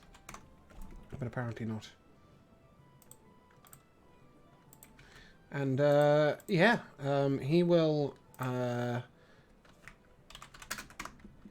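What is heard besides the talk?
typing on a computer keyboard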